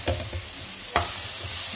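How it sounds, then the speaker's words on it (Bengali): Chopped onions, about 250 to 300 grams, go into a hot pan and fry with a soft continuous sizzle, broken by a few scraping stirs, close and without talk. "পেঁয়াজগুলো আমি এখানে দিয়ে দিচ্ছি, পেঁয়াজগুলো একটু ভেজে নিব"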